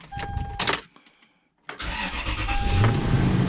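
A Toyota Sequoia engine restarts after a brief silence: the starter cranks, the engine catches, and it settles into a close, steady idle. Short mechanical clicks and rumbles come before the pause.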